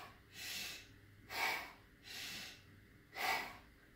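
One person breathes in through the nose and out through the mouth in four close, audible breaths, alternating a sharper inhale with a softer exhale at a steady pace.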